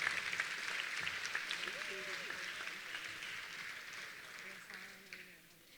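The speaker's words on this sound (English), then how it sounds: "Let's give one big round of applause for this great group" Applause from an audience at an awards night for the class of 2023, a soft, distant patter of clapping that fades toward the end with voices mixed in.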